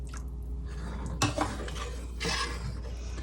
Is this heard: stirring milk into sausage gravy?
yes